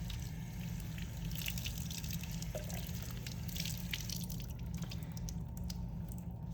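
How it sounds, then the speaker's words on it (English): Vinegar-soaked eggs rinsed under running water to remove foam and vinegar: a steady, even splash and trickle continues throughout at a low level, with no talking. "We're going to give them a quick rinse off to get the foam and vinegar off them."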